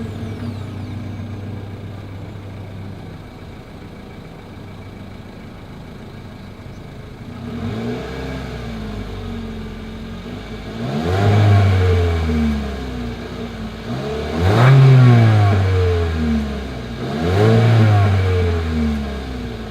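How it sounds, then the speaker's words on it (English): A 2022 Mitsubishi Eclipse Cross with a single exhaust idles steadily, then is revved three times in separate swells, each rising and falling; close and fairly loud, with no talk. "As always, here is that exhaust clip."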